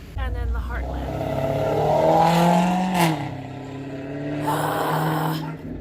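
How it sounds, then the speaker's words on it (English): A small Maserati revs its engine on a residential street, the note rising and falling in two swells at moderate distance while a person talks over it. "This guy's gonna rev his engine in his little Maserati."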